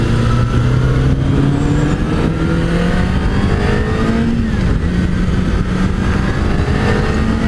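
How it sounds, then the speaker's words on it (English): Road traffic with cars accelerating hard past, engines rising in pitch as they pull away. A loud, continuous roar of several vehicles with no voices. "all that traffic."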